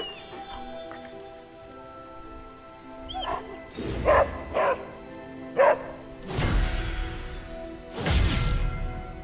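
A puppy barks in the Marvel's Midnight Suns video game, giving several short, loud bow-wows and yips in bursts separated by pauses, set against a quiet, faintly toned game background.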